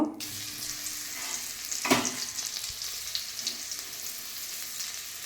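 Garlic frying in hot oil in a wok, a steady broad sizzle with a brief louder burst of spitting near the start, heard alone without talk.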